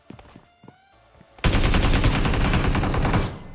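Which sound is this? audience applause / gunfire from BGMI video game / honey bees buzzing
gunfire from BGMI video game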